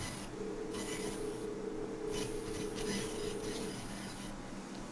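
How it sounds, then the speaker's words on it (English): Rasping, printer-like chatter from scrolling dialogue text in the Setsuna video game, steady and continuous with a few brief breaks and no voices. "every time Leonia talks, I hear like a dot matrix printer"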